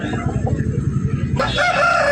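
A rooster crows loudly and close at a festival poultry market in Mamidada, a long drawn call rising over market chatter and clucking.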